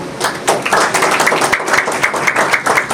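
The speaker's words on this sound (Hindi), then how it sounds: "क्या यीशु के लिए तालियां नहीं बजेंगी?" A Sunday church congregation claps for Jesus in quick, rhythmic bursts, many hands striking together loudly and close, with no talking over it.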